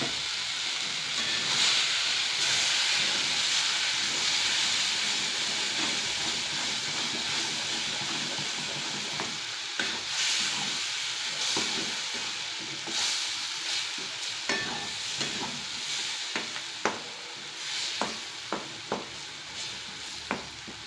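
Ground masala paste sizzles and hisses in a hot pan, a steady fry with scattered sharp crackles and spatters and a few stirring scrapes, moderately quiet with nobody speaking.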